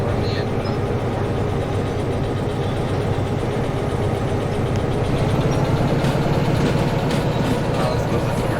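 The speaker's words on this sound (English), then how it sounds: "I guess I got to turn the engine up a bit more." A locomotive engine drones steadily in the Derail Valley train simulator game, a loud, continuous low rumble with a slight rise in intensity toward the end.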